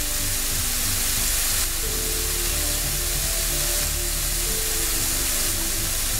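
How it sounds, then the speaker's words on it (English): Pork chops, turned over with griddle lines, sizzle steadily on a George Foreman smokeless indoor grill as their fat renders, giving a constant close hiss with no talking. "The rest of the fats which were on the pork chops are rendering away."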